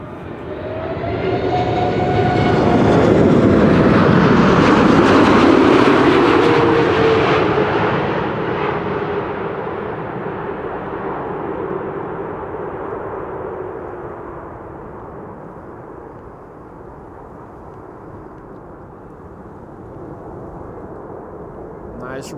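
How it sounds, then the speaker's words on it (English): A airliner lands at Amsterdam Schiphol on a frosty, sunny day, its engines swelling into a loud, broad roar with idle reverse, then fading to a steady lower rumble as it rolls out, with commentary spoken over it. "Yes, we have our answer, another idle reverse landing."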